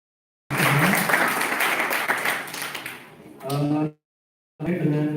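Audience applause at a Javanese literary criticism seminar bursts in after silence, a full round of clapping that fades, followed by brief speech and a short pause before the clapping resumes.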